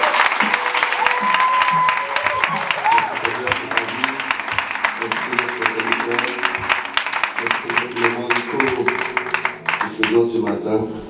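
A church congregation at a French-language Sunday service claps and cheers to acclaim God, dense sustained applause with crowd voices and shouts over it, a preacher's voice audible through the noise.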